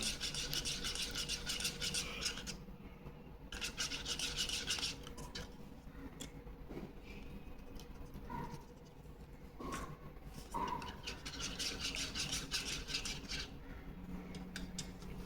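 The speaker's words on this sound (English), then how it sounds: "Apply this varnish using brush. Start from the bottom of the aircraft." A brush spreads thinned varnish over a balsa wood model aircraft, giving a soft continuous rubbing swish with repeated strokes, close and quiet, with no talking.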